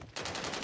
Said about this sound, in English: Dude, I'm getting shot at from three directions.